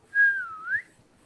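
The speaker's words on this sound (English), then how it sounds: "We had this little whistle between us." A person whistles a short two-note signal, a steady tone that dips and then rises, heard close and alone in a quiet space.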